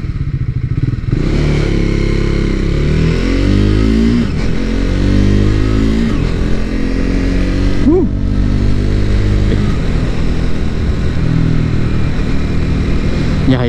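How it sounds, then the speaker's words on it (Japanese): A Triumph Scrambler 400X, a 400 cc single-cylinder motorcycle on its stock muffler, is heard up close as its engine thumps and revs, rising and falling through several accelerations with a deep, pulsing exhaust note. "ポポポポポっていうねなんかすごいこの短気筒の音がね"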